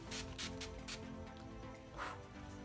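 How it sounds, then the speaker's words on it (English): Australis Makeup Finishing Spritz Spray is misted onto a face in several short hissing bursts, close but quiet, with a final longer spritz after a pause. "I'm just going to spray this all over my face."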